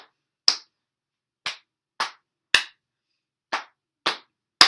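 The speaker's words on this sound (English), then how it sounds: "clap our hands. Do it with me." Hands clap at a library story time warm-up, seven sharp, separate claps at an uneven, unhurried pace, close and clear against silence, with no talking.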